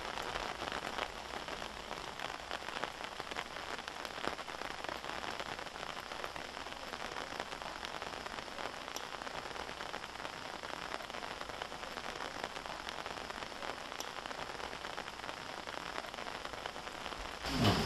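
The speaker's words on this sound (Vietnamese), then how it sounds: "Mấy ngày hôm nay mưa liên miên" Steady rain pours down on a lim tree forest hillside, a dense, even hiss of drops on surfaces that holds constant throughout, with no voices.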